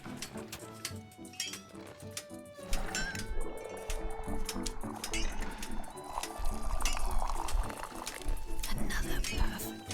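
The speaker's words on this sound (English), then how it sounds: "Another perfect pour." Tea pours in Wanderstop with a liquid trickle and clinking of cups and dishes, steady and close, mixed with game music and background chatter.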